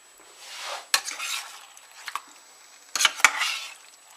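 Oyster mushrooms and pierogies stirred in a small saute pan, with quiet scraping and a few sharp utensil knocks against the pan in short bursts, a faint sizzle beneath and no talk.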